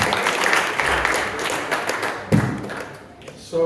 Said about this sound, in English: Can we have a round of applause for Abhay for being so patient?